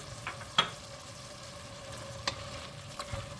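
Soft, steady sizzling of diced tomatoes and vegetables sautéing in a pan for beef sauté, with occasional light clinks of a utensil stirring.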